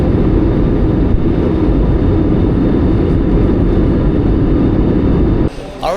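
Loud, steady low rumble of an airliner's engines at Cebu airport, heard continuously from inside the cabin before cutting off abruptly near the end.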